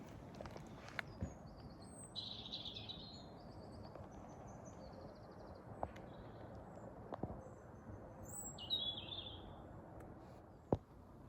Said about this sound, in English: we could listen to the birds singing